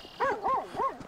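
A dog in the video game GTA V gives three rising-and-falling whining barks in an even rhythm, close and clear over a quiet background.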